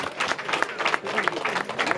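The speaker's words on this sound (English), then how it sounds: "So let's hear a huge round of applause for her." Audience applause at an outdoor Ratha Yatra festival concert, a short burst of dense clapping at moderate loudness with a voice faintly mixed in.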